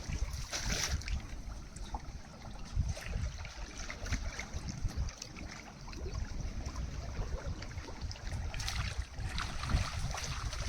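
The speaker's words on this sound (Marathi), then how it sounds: "आताच पाणी भरायला सुरुवात झाले आहे" Tidal water starts to flow in at a crabbing spot, giving a faint, steady rush and trickle that continues throughout.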